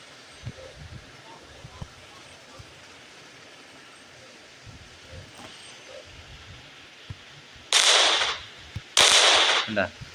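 Two sharp, loud blasts close together near the end of a sticky bomb going off in the mobile game Indian Bike Driving 3D, rising abruptly over a low, steady game background.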